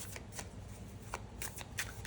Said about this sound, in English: so now I'm going to shuffle